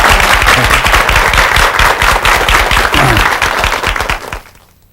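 Loud, dense audience applause at a televised lecture on acupuncture and moxibustion, sustained clapping from a large crowd that fades out at the end.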